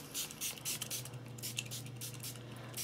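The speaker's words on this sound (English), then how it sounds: "spray the shield, literally soak it" Repeated hissing spray bursts in short pulses, fairly quiet, over a low steady hum, as Zagg Invisible Shield protective liquid is sprayed to soak the shield for a MacBook Air.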